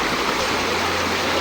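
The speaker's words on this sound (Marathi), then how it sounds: "हे पहिला ओढा" A monsoon stream rushing past on a trek to a waterfall near Panvel, a loud, continuous broadband wash of flowing water heard up close with nothing else audible.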